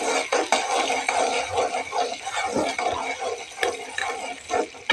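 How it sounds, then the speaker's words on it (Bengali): Chopped onion frying in a kadai over a wood-fired stove gives a steady, dense sizzle with occasional clinks of a utensil against the pan, heard close and alone. "দেখো চুলায় আমি কড়াই বসিয়ে দিয়েছি, পেঁয়াজ কুচি দিয়েছি। এখন পেঁয়াজ কুচিটাকে একটু লাল করে নেব।"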